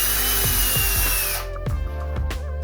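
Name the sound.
drilling a pilot hole with 1/16 inch drill bit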